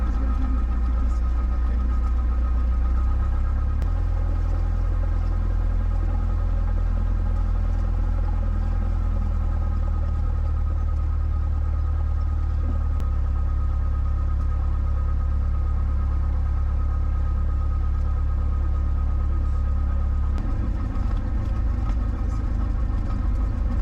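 A small aircraft engine taxiing and doing a run-up at an airport, heard as a steady low rumbling drone that shifts pitch and power a few times over the span, no talk.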